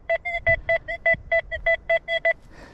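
An XP Deus 2 metal detector sweeps a 1700s homestead site and gives a fast run of about a dozen short, evenly spaced electronic beeps that cut off near the end.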